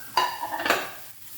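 Drumsticks drop into a metal pot on the stove with a bright clang, followed by a second short clattering knock, then quiet.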